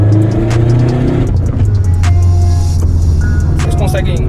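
Tuned Subaru WRX STI with an IAG engine making over 420 hp, its loud close exhaust droning and revving as it accelerates, with intermittent sharp crackles and pops through the run.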